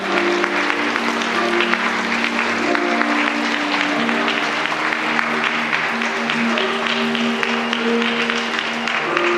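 Wedding guests applaud steadily as the bride enters the ceremony hall, a dense, continuous clapping that holds at even loudness throughout, with a sustained musical tone running underneath.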